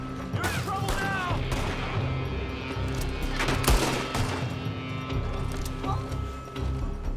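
Rapid bursts of gunfire crackle through a Red Dead Redemption 2 shootout, with sharp shots scattered across the clip over a constant background rumble, while voices talk in between.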